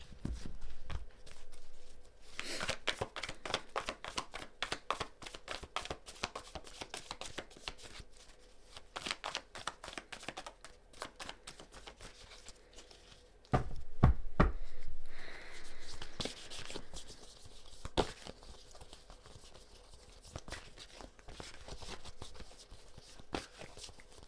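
A deck of cards being shuffled repeatedly, crisp riffling bursts and flicks in steady rhythm, close up, with a louder burst midway.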